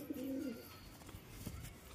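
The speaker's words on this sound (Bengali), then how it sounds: "এই হচ্ছে কবুতরটা, ম্যাটাজ কবুতর।" A pet pigeon gives one short, soft coo at the start, followed by quiet background rustle.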